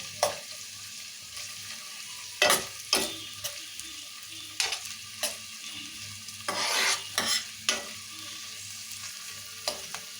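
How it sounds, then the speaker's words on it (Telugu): Thinly sliced onions and chillies frying in a pan, a constant close sizzle punctuated by repeated spoon scrapes and clinks against the pan, with one longer bubbling burst midway; no talking. "ఈ ఉల్లిగడ్డలు మిరపకాయలు మంచిగా వేయాలి."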